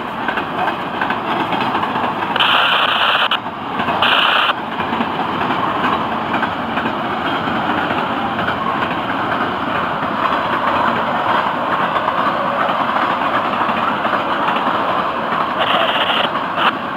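A long freight train rumbles past steadily with a broad, continuous roar and occasional higher screeches, loud and close throughout.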